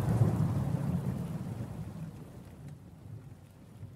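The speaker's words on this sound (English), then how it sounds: "Then it starts to rain." Rain falling with thunder: a low rumble that is loudest at the start and fades slowly, over a steady hiss of rainfall, with no voices.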